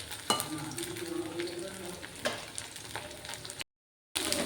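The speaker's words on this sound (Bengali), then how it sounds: "একটু সময় দিয়ে ভাজতে হয় এটাকে আর কি, ভাজলে একদম মুচমুচে হয়ে যাবে।" Soya chunk pakoras deep frying in hot oil give a steady, close sizzle with scattered crackles and a few sharp pops, cut by a brief silent gap near the end.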